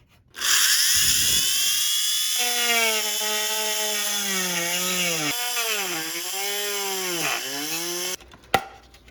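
A high-pitched rotary cutting tool whines steadily while cutting out the bed of a plastic RC car body for a WPL D12 body swap, its pitch wavering under load before it stops abruptly.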